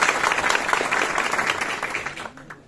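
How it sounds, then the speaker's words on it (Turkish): A crowd at a municipal political event applauds, a continuous, fairly loud patter of many hands that slowly fades toward the end. "Sevgili Yeşim Hanım'a bir alkış istiyorum"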